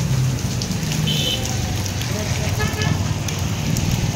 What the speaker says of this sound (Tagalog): Yan guys, umulan sa atin guys.